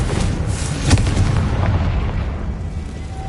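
A loud fire-blast spell explosion from Hogwarts Legacy, a booming burst that hits near the start and rolls off into a fading rumble, with no voices over it.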